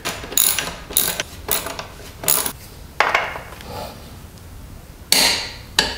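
A ratchet tightening the exhaust bolts during a full Akrapovic exhaust install on a 2022 Yamaha MT-07, heard as several quick bursts of clicking pawl strokes, loud and close, separated by short pauses with no talking.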